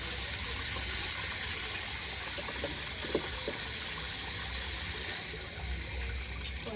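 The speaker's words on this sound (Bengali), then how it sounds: "জল ছেড়ে রেখেছি এদিকে" Water runs continuously from a tap during a long hair wash after Holi colour play, a steady loud rushing gush throughout with a faint knock midway and no talking.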